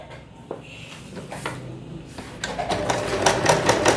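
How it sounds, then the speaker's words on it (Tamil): Domestic sewing machine stitching along the edge of fabric during a tailoring lesson, a steady mechanical whir that grows busier and louder toward the end, close and clear with no talk over it. "ஸோ இப்படியே ஓரமாக ஸ்டிச் பண்ணிக்கிட்டே வரணும்."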